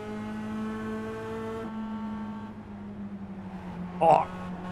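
Mazda MX-5 Roadster race cars racing at Summit Point, a steady engine drone with harmonic whine held under continuous commentary and a brief burst of noise near the end.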